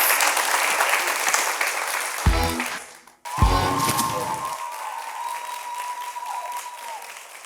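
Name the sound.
audience round of applause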